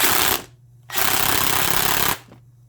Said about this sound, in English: They really wanted variable speed when it came to a cordless impact wrench.